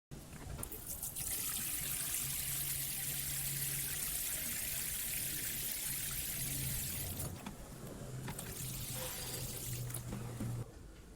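Water pours steadily into a terracotta bowl for soaking ranunculus corms, a close, continuous splashing rush that thins to a trickle and stops near the end.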